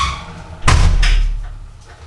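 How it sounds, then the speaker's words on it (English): A room door shuts with one solid, loud thud, then a low rumble fades over the next second. "I'm going to close the door"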